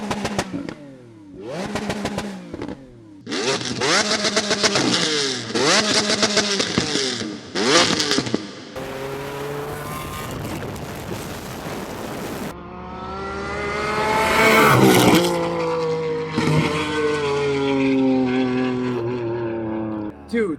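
A Lamborghini Aventador V12 on a dyno with a concept exhaust revs repeatedly in sharp bursts with crackling pops, then sustained high-pitched roaring acceleration, close and aggressive, with voices over parts.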